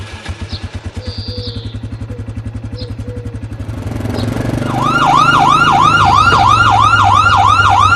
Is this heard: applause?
no